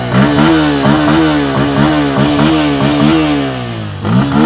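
A motorcycle engine revs up and down in repeated throttle blips, rising and falling in pitch, loud and close, with a final rev at the end.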